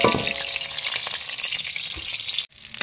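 Chopped onion and garlic frying in a hot pan for chicken adobo, a loud steady sizzle with light stirring, broken by a brief sudden dropout near the end.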